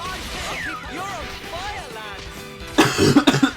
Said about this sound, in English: I'm sorry I'm coughing so hard.